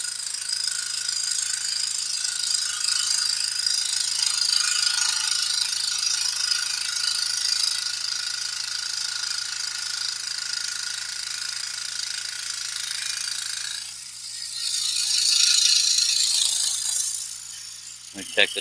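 A power saw runs continuously with a loosened blade tension, its high whining buzz steady and loud, dipping briefly before surging again and ending with a few rattles.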